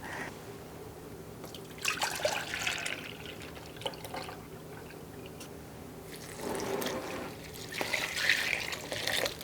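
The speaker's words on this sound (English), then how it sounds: "Going to add 4 cups of milk." Milk is poured into a baked oatmeal mixture in a home kitchen, a soft trickling gurgle that rises in a few separate pours over a low steady background hum, close but fairly quiet, without any talking.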